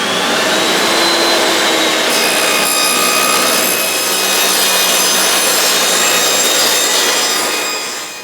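Wooden boards cut down with a power saw for a freestanding shelf, a loud continuous whining drone that shifts pitch as the blade bites, close and steady throughout with no voices.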